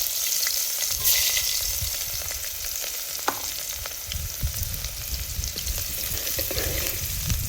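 Chopped onion sizzles in hot oil as a tempering for a whole brinjal curry, a steady close-up crackle and hiss that runs continuously with a few stirring scrapes.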